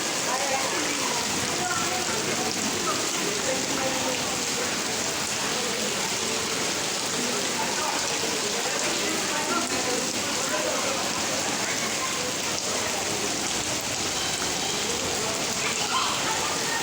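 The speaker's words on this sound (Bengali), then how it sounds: "দেখুন এই যে বৃষ্টি, অঝোর ধারায় বৃষ্টি।" Heavy rain pouring down steadily on an evening, a dense unbroken hiss of drops on surfaces, loud and close, with voices faintly audible beneath the downpour.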